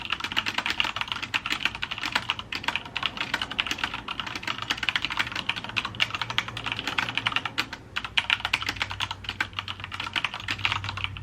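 Continuous fast typing on a computer keyboard during a chapter-writing session, steady dense key clatter running the whole time with brief pauses, close and fairly loud, with no talking.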